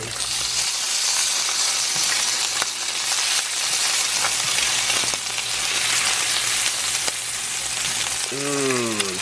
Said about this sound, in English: we're frying some bacon to get some bacon grease